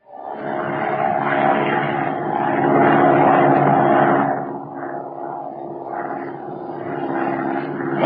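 Old radio-drama sound effect of a propeller airplane flying into a stiff headwind: a loud, steady engine drone that swells, then eases slightly and holds, with no voices over it.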